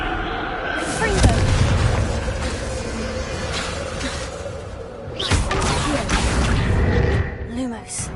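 Booming blasts from the Confringo spell erupt in a Hogwarts video game, loud rumbling explosions with whooshing tails, mixed with game voices and sounds.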